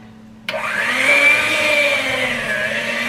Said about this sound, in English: Now we're going to use our mixer.